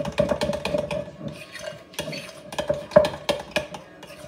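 Cream cheese filling with buffalo sauce and jalapeño being mixed briskly by hand in a bowl, giving repeated quick scraping and tapping strokes of a utensil against the dish, close and fairly loud, with no talking.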